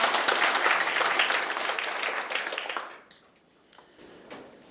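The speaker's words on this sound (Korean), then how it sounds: "박수로 마치겠습니다" Audience applause closing a policy forum, a dense burst of clapping that fades out after about three seconds, followed by a few scattered claps.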